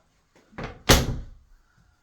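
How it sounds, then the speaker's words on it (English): Cabinet doors beneath house sinks opening during a home tour: a soft knock followed by a sharper wooden thunk, close and distinct, then quiet. "I'm going to open up all of the cabinets underneath sinks just so we can see if there's any kind of leaks and stuff"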